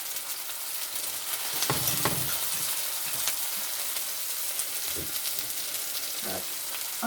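Onions and the white parts of green onions sizzle steadily in a hot pan while being sautéed. Occasional utensil scrapes and clanks stand out over the frying hiss.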